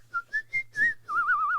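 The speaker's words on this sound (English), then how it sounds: "I just felt compelled to whistle." A person whistles the chorus of a song, loud and close, with four short rising notes and then a longer wavering held tone.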